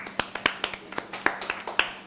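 Applause from an audience at a university ceremony, sparse, sharp claps at an uneven rhythm from a small number of hands, close and fairly loud, lasting about two seconds.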